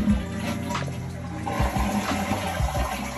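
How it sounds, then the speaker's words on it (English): A toilet flushes with a steady rushing, gurgling swirl of water that stays loud and close for the whole stretch, alone with no talking. "all I gotta do now is just flush the toilet"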